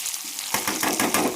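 Chopped onions fry in hot oil for chicken biryani, browning in a pan. After a short quiet start, a loud, dense sizzle bursts in with rhythmic surges, like the onions being stirred through the oil.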